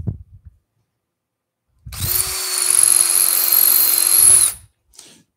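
A handheld power drill bores a single hole into a wooden carving part in a woodworking studio. It whirs steadily for about three seconds, loud and close, starting and stopping cleanly with faint handling knocks before and after.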